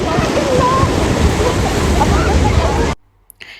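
Sea waves wash onto a beach at Fujairah as a loud, steady rushing roar, then cut off abruptly near the end, leaving near-silence broken by a couple of faint sounds.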